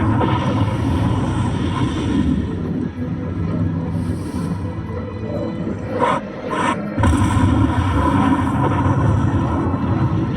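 Loud, sustained roar of military aircraft engines from Indian Air Force fighter jets over the Jaisalmer border in 1965, a broad continuous rumble with a few brief surges, alone without voices.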